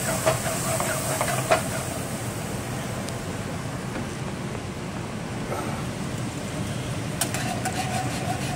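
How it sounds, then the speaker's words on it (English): Heavy cream poured into a hot pan deglazes with a continuous low hissing, bubbling sizzle, steady and close, broken by a few faint clinks of a utensil against the pan. "And I'm going to let that kind of deglaze in the pan."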